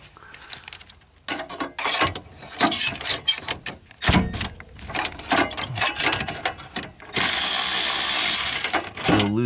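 Ratchet loosening bolts on a hybrid car's high-voltage battery, rapid irregular clicking and metallic clatter in bursts, close and loud, ending in a sustained harsh rasp.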